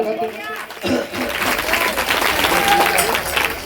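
Crowd applause at a village welcome ceremony for a chairman swells into a dense, sustained clatter of many hands, with scattered voices and light laughter mixed in.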